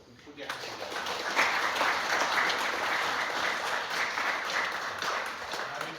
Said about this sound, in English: Give the big rounds of applause as we say the goodbye to our friend Alan.